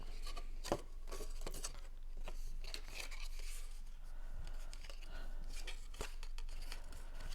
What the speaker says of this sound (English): So I'm going to use my bone folder and fold that.